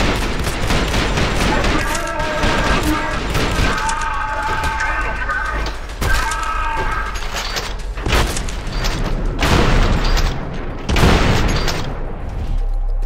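Rapid bursts of gunfire from the shooter video game Trepang2 crackle loudly and repeatedly, with booming shots and mechanical clatter layered over game sounds for most of the stretch.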